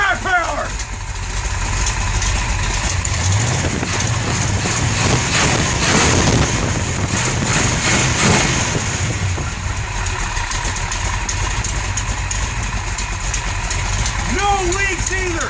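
A 1973 Plymouth Satellite with a big-cam 451 cubic-inch stroker big-block and tri-power carburetion idles close by, a steady loud rumble running the whole time while people talk over it.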